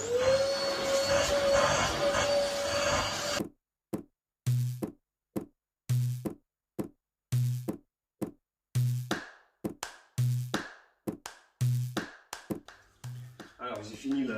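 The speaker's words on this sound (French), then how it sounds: "je vais commencer déjà par faire un bon coup d'aspirateur dessus pour bien enlever les poussières et les miettes de pain" A vacuum cleaner runs steadily for a few seconds while dust and bread crumbs are cleaned off a sofa, then cuts off into a series of short, sharp knocks and taps with brief silences between them.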